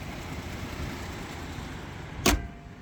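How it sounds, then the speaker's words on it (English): A 2018 Jeep Grand Cherokee Overland 4x4 engine idles on a cold day, a steady low hum with one sharp mechanical click near the end, no speech. "you can hear it idling very happily here on this cold day"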